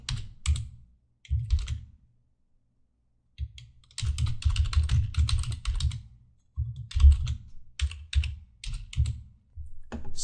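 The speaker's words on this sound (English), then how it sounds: "We're just going to type some quick, basic HTML code." Rapid keystrokes on a computer keyboard while basic HTML code is typed, coming in close, crisp bursts separated by short pauses, with no talking.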